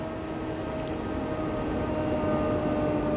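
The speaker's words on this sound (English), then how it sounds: "Oh, listen to those trains." Trains rumble in the video game Train Sim World 2022, a steady low mechanical drone with a faint tonal hum, continuous and moderately loud with no talking.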